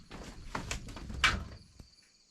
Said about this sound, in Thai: เหมือนมีเหมือนมีคนมาเคาะ